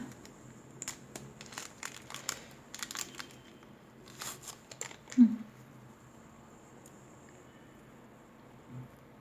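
A plastic packet of spare round sponges is torn open, giving soft crinkling and rustling in short bursts, then one brief louder crackle before it goes quiet.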